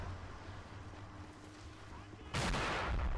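Mortar fire in the war game Men of War: Assault Squad 2 erupts as a single sudden loud blast that swells into a sustained roaring rumble, following a stretch of quieter background ambience.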